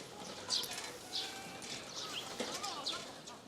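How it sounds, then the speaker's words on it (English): Pigeons call on a quiet outdoor path beside sports fields in an Osaka neighborhood, soft coos and a few brief chirps rising over low ambient hum at moderate distance. "Let's go see if we can bother those pigeons."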